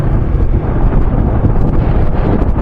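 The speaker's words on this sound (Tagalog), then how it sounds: "Grabe hangin." Heavy wind blasts across the microphone outdoors at a housing area in Naic, Cavite, in a continuous, deep rumbling roar with small fluctuating gusts.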